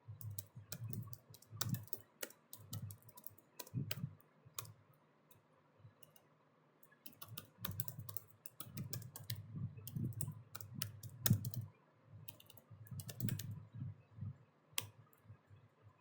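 Bursts of computer keyboard typing while a renewal note is entered into CRM software, quiet clicking keystrokes arriving in several flurries separated by brief pauses.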